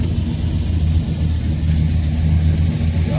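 A custom classic car's engine idling while warming up, a loud, steady low rumble close by with slight revving swells, no talk over it.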